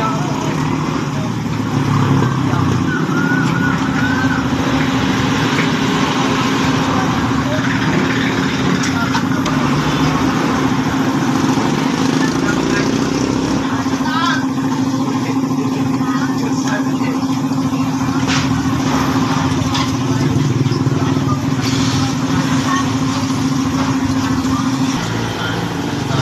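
A motorcycle engine runs steadily at idle after a tire change, a constant low hum, loud and close, with background chatter and occasional clanks.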